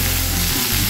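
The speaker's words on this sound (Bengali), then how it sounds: "ভেজে নিচ্ছি" Potatoes for aloo posto frying and being stirred in a pan, a steady close sizzle with low stirring rumbles running through the whole short moment, no talk.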